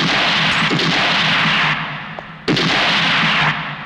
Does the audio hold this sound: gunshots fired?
yes